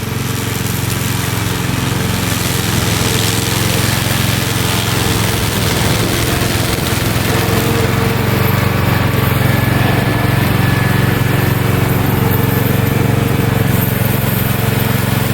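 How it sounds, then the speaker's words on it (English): Koham remote control lawn mower with a powerful engine running steadily and loud throughout, a continuous droning hum with no pauses. "Equipped with a powerful engine and plenty of horsepower, it can quickly crush even tall and thick weeds without leaving any traces."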